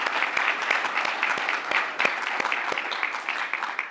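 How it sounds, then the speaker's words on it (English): An audience at an awards and installation dinner event applauds steadily, a close, continuous patter of many hands with a few sharper claps standing out. "we need a special round of applause for them for our food and drink that we had this evening"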